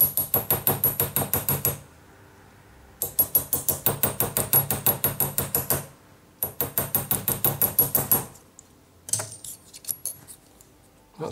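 Rapid metallic hammer taps on a homemade punch, setting a rivet, ring out in three quick runs of steady blows, close and bright, with short pauses between runs.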